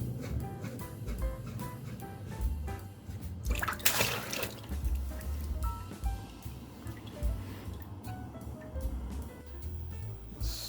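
Water drips and trickles out of a van's shower drain plumbing in irregular small splashes and gurgles, close and quiet, with one louder gush partway through.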